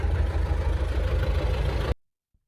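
A small tractor engine idles with a steady low, chugging rhythm after discing a field, loud and close, then cuts off abruptly near the end.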